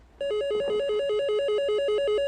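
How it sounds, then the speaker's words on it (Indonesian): A telephone rings with a fast, steady electronic warble alternating between two pitches, loud and close, sounding continuously without talk. "Maksudnya Carrie akan menelpon mereka, tapi bukannya mengangkat telepon karena mereka nggak ngerti apa itu telepon."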